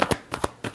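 Tarot cards being shuffled by hand in a few quick riffling bursts, each a short papery rustle, close and alone without talk.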